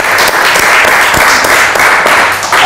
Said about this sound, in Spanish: Te aplaudimos.